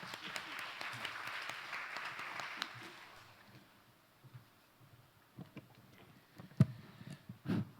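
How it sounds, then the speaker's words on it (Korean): Audience at an international philanthropy conference panel claps, a soft, fairly distant patter for about three seconds that fades into a quiet room with scattered thuds and shuffles. "여러분 큰 박수로 맞아주시기 바랍니다"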